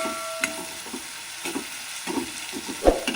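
Onions frying over medium heat in a pan while potato palya for masala dosa is cooked, with a steady soft sizzle broken by a few scraping stirs and a sharper clatter near the end.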